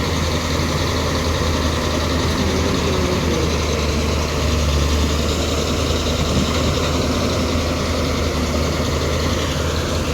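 A heavy diesel excavator engine drones loud and steady throughout while loading a tractor, a constant low rumble with a faint mechanical whine and no pauses.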